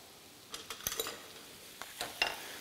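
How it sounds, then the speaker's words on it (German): Unpeeled garlic cloves and a little thyme dropped into hot oil in a pan, with a faint sizzle beneath several sharp clinks and scrapes of pan and utensil in short bursts. "Und Knoblauchzehen. Und zwar mit Schale kommen da direkt rein."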